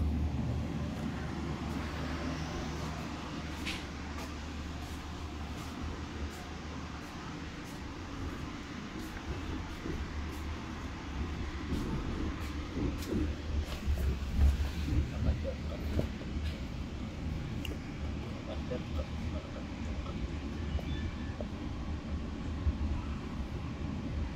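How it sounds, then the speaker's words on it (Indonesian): A passenger train passes on the adjacent track beside the Argo Sindoro express between Semarang and Jakarta, a steady loud rumble and rush with clattering wheel knocks swelling midway, heard continuously from inside the carriage. "Ini kayaknya bakal ada papasan nih sama kereta lain di sebelah kiri arah"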